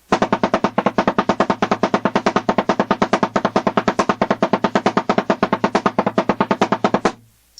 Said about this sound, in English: And paradiddles fast sound like this.